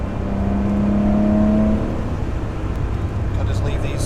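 Loud air-cooled flat-six Porsche 911 engine with six carburetors and air filters off, running close by, a steady throaty drone with a brief rising rev early on.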